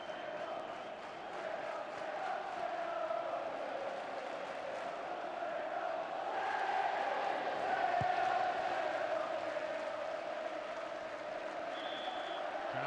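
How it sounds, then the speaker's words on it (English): A football crowd at an Oldham versus Southampton match rolls a Mexican wave around the ground, a broad distant roar of cheering that swells slightly midway and holds steady, with a faint whistle-like tone late on. "Crowd in good heart now, the Mexican wave going round."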